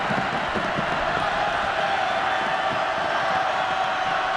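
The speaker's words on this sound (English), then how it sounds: "And 3rd and long as this crowd here at Kenan Stadium tries to answer." A large college football crowd at Kenan Stadium roars steadily on third and long during a North Carolina State at North Carolina game, a dense, continuous wash of distant cheering and whoops with no break.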